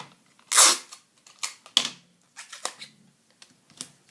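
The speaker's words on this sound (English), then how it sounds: "And I'm going to sticky tape the envelope." Sticky tape being pulled and pressed onto a paper envelope, heard as a string of short crackling rips and taps, loudest early on and growing softer and sparser, close by with no talking.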